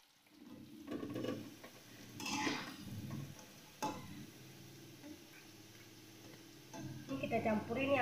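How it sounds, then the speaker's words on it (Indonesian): Tempeh frying in hot oil in a home kitchen pan, a steady soft sizzle with stirring and utensil clinks, the crackle rising toward the end, under faint background sounds. "Terus langkah kedua kita goreng tempe ya"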